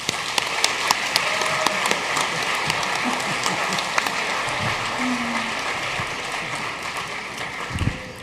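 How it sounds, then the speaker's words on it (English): Audience applause at a high school congressional debate, honoring the candidates: steady, broad clapping from a crowd throughout, with faint voices and scattered louder claps near the end. "one big last round of applause to for our candidates"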